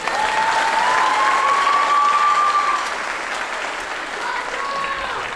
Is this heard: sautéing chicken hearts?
no